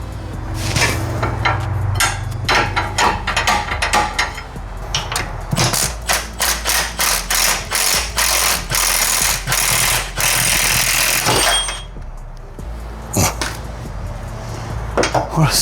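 Metal-on-metal clicking and clanking of tools working a stubborn bolt loose during an air ride to coilover suspension swap, a dense run of sharp taps and ratchet-like clicks close by, with steady background hum.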